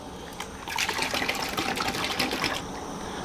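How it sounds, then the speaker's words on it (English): Water pours into a gallon jug for hide-tanning pickle solution, a close, steady gushing trickle that swells and then thins out near the end, with no one talking. "I just got a gallon of water, I just filled it up."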